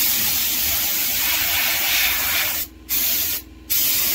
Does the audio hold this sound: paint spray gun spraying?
yes